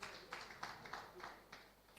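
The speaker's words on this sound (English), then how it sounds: "A round of applause for him" Scattered applause from an audience at an awards night, greeting a guest who has just been introduced, with a few separate claps standing out. The applause is faint and distant, and brief background talk is heard.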